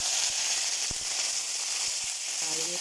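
Dried red chillies and dried curry leaves crackle and sizzle steadily in hot oil with mustard seeds, a loud continuous hiss with scattered pops, no talking.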